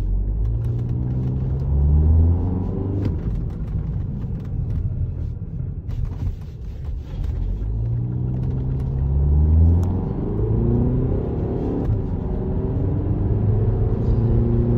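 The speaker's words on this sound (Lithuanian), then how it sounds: "Variklis dirba gerai, įsibėgėja mašina gerai" A 2-litre diesel VW Passat Alltrack with 140 kW accelerates on the road, its engine a steady low drone that swells and eases as the car gathers speed, with continuous cabin rumble and no voices.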